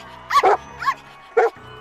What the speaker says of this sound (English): Who let the dogs out? Woof, woof, woof, woof.